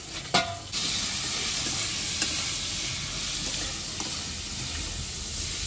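Ground cumin, green chilli and ginger sizzle in hot oil in a pan, with a steady hiss and a few scrapes of stirring throughout, close and continuous.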